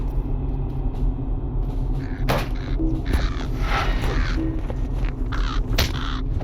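A crow-like bird in the Lord of the Rings Online game gives several harsh caws over a low rumbling background.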